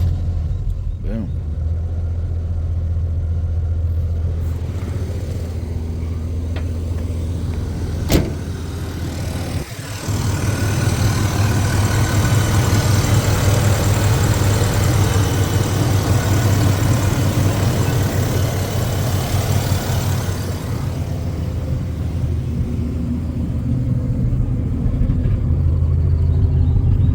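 A 1986 Buick Regal, newly revived, sits idling with a steady low engine rumble. A sharp click and a brief dip come partway through, then the idle resumes and rises slightly toward the end.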